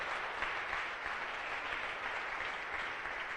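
A church congregation applauds, sustained dense clapping that stays even and fairly loud throughout with no voices on top.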